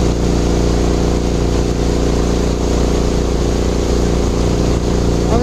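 A Mokai motorized kayak's small engine drones steadily while cruising on water through sloughs, loud, close and constant, with a faint voice underneath.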